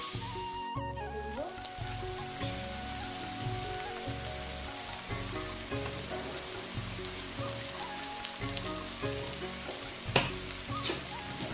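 Raisins and other fried rice ingredients sizzle in hot oil in a pan, a dense continuous crackle with occasional stirring clatter and a brief louder knock near the end, with soft music underneath.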